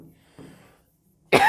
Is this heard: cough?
yes